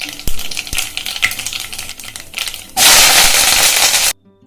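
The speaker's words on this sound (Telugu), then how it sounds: "ఆయిల్ వేడెక్కిన తర్వాత 1 టేబుల్ స్పూన్ ఆవాలు, 1 టేబుల్ స్పూన్ జీలకర్ర వేసుకోవాలి." Mustard seeds and cumin frying in hot oil, heard as scattered crackles and a stir, then a sudden loud, steady sizzle near the close that cuts off abruptly.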